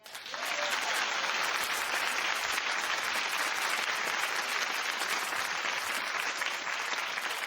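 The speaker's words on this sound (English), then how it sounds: "Clap if you'd want to know." Studio audience clapping steadily on a talk show, a dense, sustained wash of applause with no voices on top.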